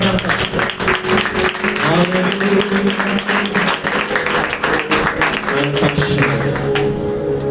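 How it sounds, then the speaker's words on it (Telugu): Rhythmic hand clapping from a worship congregation, keeping steady time under loud singing and music during a Telugu Christian praise song. "చప్పట్లు కొడుతూ ఆయన నామమున"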